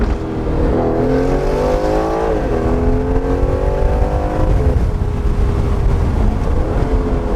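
A tuned Aston Martin Vantage F1 engine with downpipes revs up and down through several rising surges, with rough exhaust crackle and pops under the steady roar.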